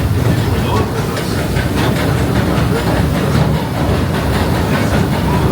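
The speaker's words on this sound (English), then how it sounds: "please remain seated until the train comes to a complete stop" Disneyland Railroad train rolling steadily along its track at Disneyland Park, a loud continuous rumble with rhythmic clickety-clack from the rail joints, heard close from on board.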